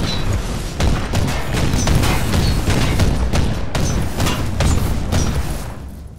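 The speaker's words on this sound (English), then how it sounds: "Okay, so this is the bolt gun sound." A bolt gun fires in Warhammer 40K Inquisitor: Martyr, a loud sustained barrage of heavy rapid booming shots rolling together for several seconds before cutting off.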